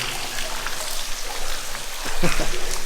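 Dense, steady patter of water dripping and splashing all around inside a disused railway tunnel, like a heavy shower in an enclosed space, with a few louder drops near the end.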